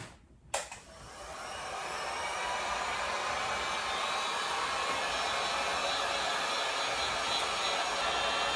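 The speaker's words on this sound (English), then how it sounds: "I'm gonna put the heat gun and I'm gonna warm this up" A heat gun warms soy candle wax, blowing a steady, loud airy roar that switches on with a sharp click just after the start and then holds constant, close by, with no talking.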